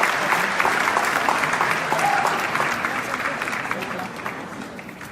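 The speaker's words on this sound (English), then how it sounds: "So big applause for you guys." Large audience applauding at the Dealshaker Expo in Paris, a dense, steady wash of clapping that holds loud and continuous, easing slightly toward the end.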